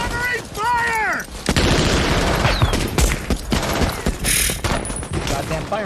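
Gunfire from the war film Saving Private Ryan, with dense bursts of shots and booms crowding a chaotic battle soundscape, plus a brief whistling sweep, all loud and close.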